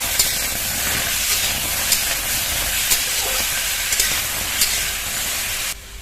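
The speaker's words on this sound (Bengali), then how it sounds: "শুকনো কড়াই টমেটো কুচি দিয়ে দেবো।" Chopped tomatoes sizzling in a dry wok with no water added, a constant hissing spit of steam broken by occasional sharp pops, then cutting off abruptly near the end.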